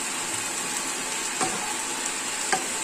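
Tomatoes sizzling in a hot pan for an aloo matar curry, a constant bright frying hiss with a couple of soft utensil taps, close and without speech.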